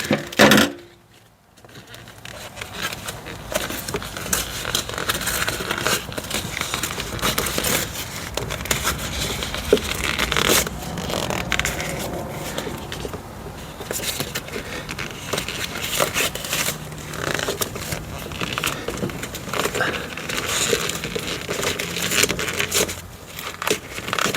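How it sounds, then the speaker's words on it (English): Tape peeled off a pipe insulation wrap, a near, continuous crackling and tearing that runs on for a long stretch with uneven scratchy bursts, no talk. "Take off the rest of that tape, and we'll just keep going here."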